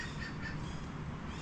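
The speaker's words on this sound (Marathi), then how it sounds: "पक्षी आवाज करतात खूप जोरजोरात वरती" Birds call loudly overhead at a beach, a steady mass of squawks and chirps over continuous surf-like background noise, with no talking.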